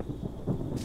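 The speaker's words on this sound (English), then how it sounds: "Man, it's always thunderstorms too." Low rumbling thunder rolls briefly through a rainy thunderstorm in the video game Minecraft, soft and muffled under a faint wash of rain.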